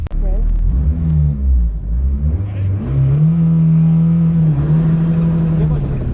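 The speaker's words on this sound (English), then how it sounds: "coming off the line here, I had a ton of wheel spin" A car launches off the start line at an autocross event with heavy wheel spin, its engine revving up loudly and holding a rising drone close by, with someone talking over it.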